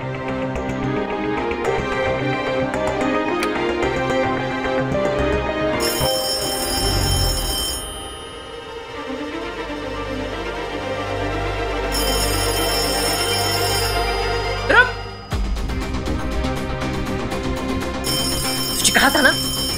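A landline telephone rings in a household setting, its repeated bright rings standing out in bursts over background music and room sound, fairly loud and close.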